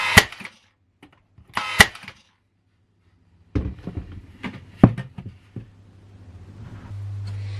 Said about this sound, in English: firing in as many brad nails as possible into the back